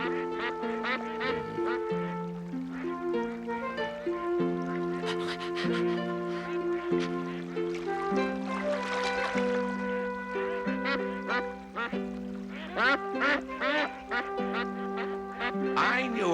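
Cartoon geese honk and quack in a busy flock, repeated nasal calls layered over a melodic musical score, with voices speaking intermittently.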